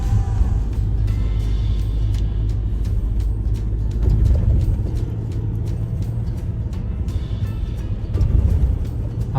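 A car drives along a road with a steady low engine and tyre rumble close inside the cabin, continuous throughout with small surges, and no talk.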